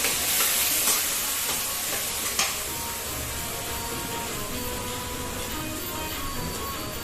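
Rice frying in a hot pan for vegetable fried rice, a loud continuous sizzle and hiss with a scrape or two of stirring early on, steady and close throughout.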